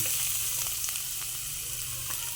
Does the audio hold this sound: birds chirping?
no